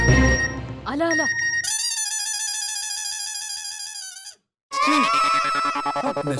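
A mobile phone plays a loud message notification tone, a bright electronic melody with one long sustained warbling stretch, then a brief silence before the tone resumes. Voices may be mixed in at the start and end.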